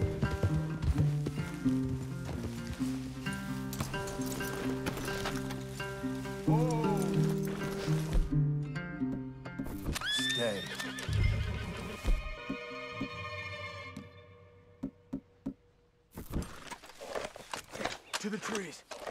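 Horses in Red Dead Redemption 2 whinny loudly and snort among clopping hooves, with game voices talking over them, before things settle into quieter footsteps and rustling.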